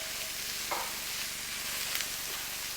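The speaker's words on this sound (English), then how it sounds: "And we're gonna add some radishes. So we're just gonna let that cook through." Radishes frying in a hot pan for pad thai give off a steady, dense sizzle throughout, close up, with a faint scrape or two of stirring and no voices.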